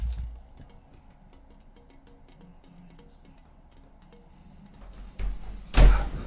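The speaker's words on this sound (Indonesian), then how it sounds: "ada suara tutup pintu" A door closing in a holophonic horror-challenge recording: after near silence, a couple of soft knocks lead into a sharp, loud thunk of the door shutting near the end.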